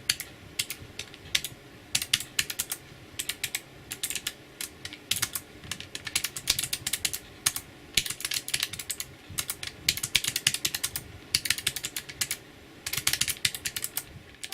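Fast typing on an anidees Prismatic thin mechanical RGB keyboard, a dense run of crisp clicky keystrokes in bursts with short pauses, close and alone over faint room fan hum.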